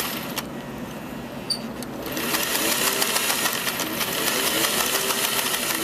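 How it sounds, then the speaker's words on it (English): Sewing machine stitching a patch pocket onto fabric, starting after a quiet moment with a few clicks, then a steady, close mechanical whir of rapid stitching. "And finish stitching the pocket."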